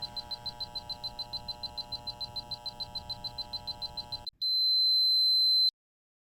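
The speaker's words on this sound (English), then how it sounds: "The control box should start to beep intermittently and begin the limit learning process." A motorised servery's control box beeps intermittently in a rapid, steady series of short electronic pulses during limit learning, then gives one sustained long tone before silence.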